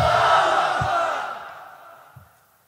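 A crowd at a Bengali Islamic waz sermon roars the takbir response in unison, a loud massed shout that swells at the start and then fades away over the next two seconds.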